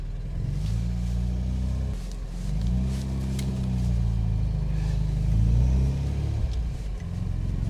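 A supercharged MGB pulls away and drives off, engine revving through several rising gear pulls with a deep, loud rumble close by, a fault making it bog down.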